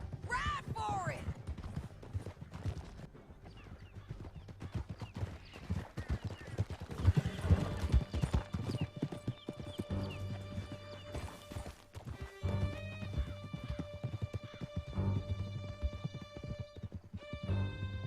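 Horses gallop hard across a Red Dead Redemption 2 canyon, a steady drumming of hooves with occasional whinnies running the whole way, mixed with game music and voices.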